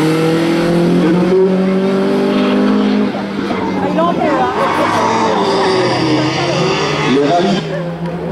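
A historic Alpine berlinette rally car idles and revs loudly at the start line of a hill climb, its engine note rising and holding under an announcer's voice over the loudspeaker.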